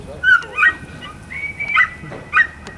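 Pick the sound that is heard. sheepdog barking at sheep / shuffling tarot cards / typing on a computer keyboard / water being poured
sheepdog barking at sheep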